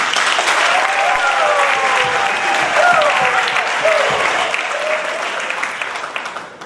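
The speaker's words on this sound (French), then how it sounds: "Sous vos applaudissements." Wedding guests applaud at a civil marriage ceremony in Brazzaville. Thick, sustained clapping from a crowd carries voices and cheers above it, holding strong before tapering slightly toward the end.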